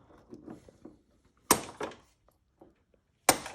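Two sharp hammer strikes on a punch ring out, driving plastic rivets out of a 2013 BMW X5, the first followed by a quick second knock, with softer handling noises before.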